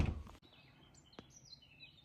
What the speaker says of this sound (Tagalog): Naririnig niyo ba yung huni ng ibon?